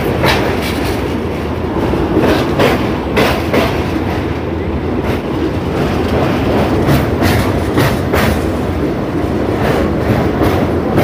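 The Santragachi–Digha special train runs at speed on rails near Kolaghat, giving a loud, continuous rumble from inside the carriage with a steady rhythmic clickety-clack of wheels over rail joints.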